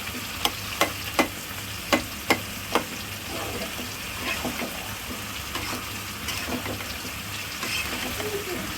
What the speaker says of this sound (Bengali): সবজিটাকে ঢেলে দেব, তারপর নাড়াচাড়া করে সবজি হয়ে যাবে